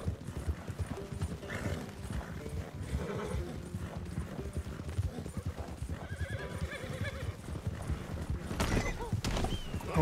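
A horse galloping in the Red Dead Redemption 2 video game during a long distance race, steady clip-clop hoofbeats under a dense, busy game soundscape with a whinny and brief louder bursts near the end.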